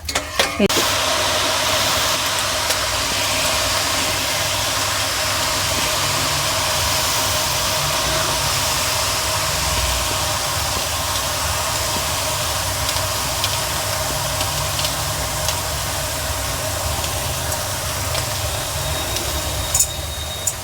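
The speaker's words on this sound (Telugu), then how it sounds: "మంచిగా ఇది కూడా మనకి డీప్ ఫ్రై అయిపోవాలి" Karam poosa, a Diwali snack, deep frying in hot oil, giving a steady broadband sizzle and bubbling hiss that runs unbroken and fairly loud throughout, with soft low clatter beneath.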